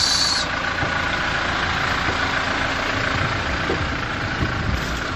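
A diesel engine idles steadily nearby, a constant low rumbling clatter with no voices.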